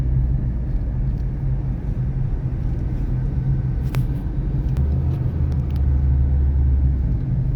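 Car cruising as it merges onto a highway after a hillside bypass road, a steady loud low engine and road rumble from inside the cabin, continuous throughout with a couple of faint ticks and no voices.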